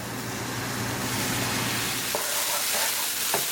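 Long beans and potatoes frying in a pan give a steady loud sizzle, with a few brief stirring scrapes and knocks toward the end.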